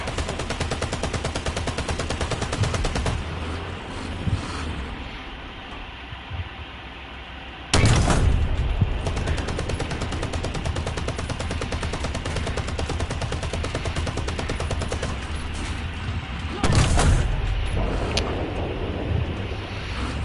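Gunfire in War Thunder, with sustained rapid shooting and mechanical rumble throughout and two loud bursts standing out midway and near the end; no talking.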